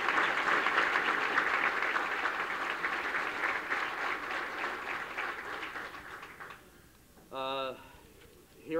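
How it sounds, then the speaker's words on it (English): A live debate audience gives a round of applause, a dense crowd clapping steadily for about six seconds before fading out, followed by a brief tonal blip and quiet room. "So if everybody could give them a round of applause, I would appreciate it."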